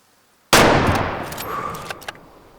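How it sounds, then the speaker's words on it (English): A single loud hunting rifle shot at a deer in the video game Way of the Hunter, set in Nez Perce Valley, cracks suddenly out of silence and rolls into a long fading echo, followed by a couple of faint clicks. "I took a shot."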